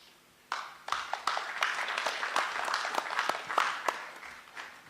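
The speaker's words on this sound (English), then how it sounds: "Let us give a better applause to Dig In Vision Virtual Training Center" Audience applause at a live address by President Ruto in Poland, honouring a virtual training centre: a dense, steady patter of many hands clapping starts abruptly and carries on throughout, with a few sharper individual claps standing out near the front.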